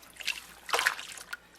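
Water trickles and drips from a knitted scarf being rinsed and worked by hand in a basin, a short close splashy dribble with a few louder surges and no speech.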